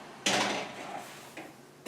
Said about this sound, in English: I'm going to put these in the oven.